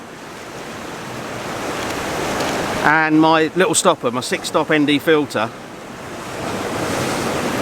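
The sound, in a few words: ocean waves splashing over rocks and draining off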